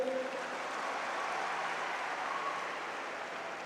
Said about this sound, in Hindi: उनके लिए भी ताली बजाइए